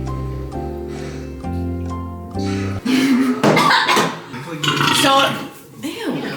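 A loud, drawn-out burp at a night house party, rising over the clatter of a party game and followed by laughter and voices close to the mic.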